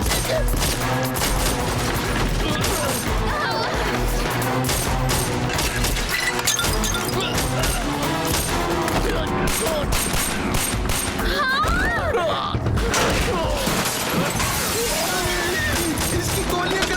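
Sustained gunfire from a Hindi-dubbed adventure film scene in Jack Hunter and the Quest for Akhenaten's Tomb: dense, rapid bursts of shots and crashing impacts roll on without pause, loud and layered over a busy soundtrack.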